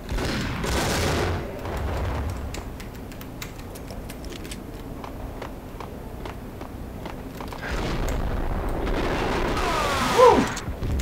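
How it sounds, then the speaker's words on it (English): A grenade blast in the video game Max Payne bursts out amid game gunfire and scuffling, with a loud peak near the end over a dense, rumbling background. "Grenade!"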